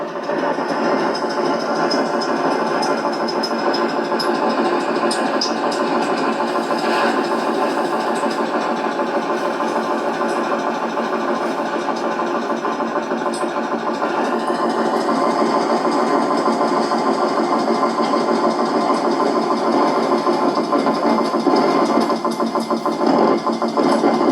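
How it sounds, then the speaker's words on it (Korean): A steady mechanical hum drones on without pause, like a compressor motor running continuously at an even level. "돌아가는 소리를 들어보면 뭔가 기계 소리인데 뭔가 이게 콤프렉서 같은 이런 소리가 아닌가"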